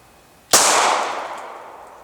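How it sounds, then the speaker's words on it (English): A Glock 23 fires a single .40 S&W 180-grain Golden Saber round from ten feet into calibrated ballistic gel, a sharp, loud report followed by a decaying outdoor echo. "He's going to be firing from 10 foot into calibrated gel."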